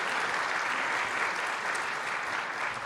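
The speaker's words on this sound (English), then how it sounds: "That deserves a real applause." Audience applause at a mayor's breakfast event, a steady, fairly faint wash of clapping from a crowd, sustained without pause.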